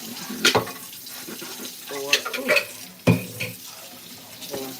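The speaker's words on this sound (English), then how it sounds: "Let me wash one more cup." A cup is rinsed under a running kitchen tap, with water splashing and intermittent clinks and knocks of the cup against the sink, close up, while bacon cooks nearby.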